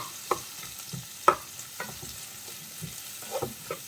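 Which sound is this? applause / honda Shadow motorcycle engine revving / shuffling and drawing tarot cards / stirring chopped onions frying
stirring chopped onions frying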